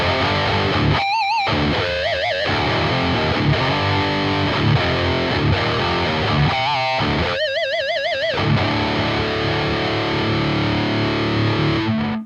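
Distorted electric guitar through the Positive Grid Bias X amp sim VH4 preset, heavy chugging riffs broken by squealing vibrato bends and a few stabs, loud and continuous with no talk.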